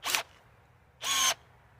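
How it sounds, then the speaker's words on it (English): A power drill runs in two short bursts about a second apart, close and whirring, with a quiet pause between, while building a rustic wooden fire pit bench. "It seems to be this drill."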